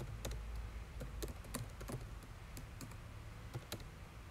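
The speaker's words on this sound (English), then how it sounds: "We can start typing away." Typing on a computer keyboard, steady irregular key clicks at moderate speed, close and fairly quiet over faint room noise, with no talking.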